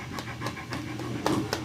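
A tolerant dog at a veterinary visit pants close by in quick, regular breathy bursts, about six over under two seconds, with faint scratchy movement between them.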